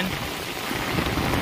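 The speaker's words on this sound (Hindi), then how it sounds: "बारिश बहुत तेज हो रहा है" Heavy monsoon rain pouring down on a rooftop, a dense continuous hiss of drops close by with no pauses.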